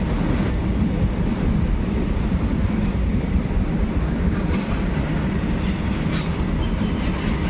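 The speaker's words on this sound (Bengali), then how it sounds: "ওদিক দিয়ে একটা ট্রেন যাচ্ছে তোমরা দেখতে পাচ্ছ মালগাড়ি" A goods train rolls past near a railway station, giving a continuous loud rumble with rhythmic wheel clatter and faint squeals throughout, with no voices.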